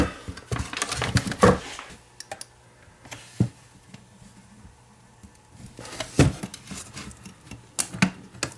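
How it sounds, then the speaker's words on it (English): Screws are backed out of the metal shield on a Radio Shack 8-track player, heard as close, uneven clicks and taps in two bursts with a quieter stretch between them and no voices. "So I have to take out these 2 screws to take the shield off of this."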